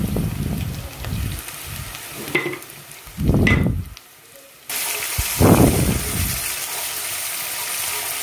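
Chopped tomatoes go into softened onions frying for achari mutton, and a steady hiss of sizzling fills the pan from midway on. Earlier come scraping stirs and gentle clatter, with no talking.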